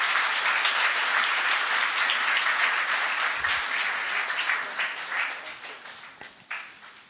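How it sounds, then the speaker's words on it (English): Sustained audience applause at a formal ceremony marking the Ram Mandir event, a thick wash of many hands clapping that holds steady, then thins and tapers off into scattered claps near the end. "Big round of applause, please."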